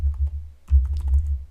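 Fast keystrokes patter on a computer keyboard, close and clear over a low steady hum, in a short run of typing.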